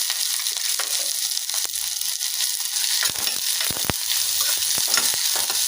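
Curry leaves, onion, green chillies and mustard seeds fry in hot oil, giving a steady close sizzle with a few stirring scrapes and crackles and no talking.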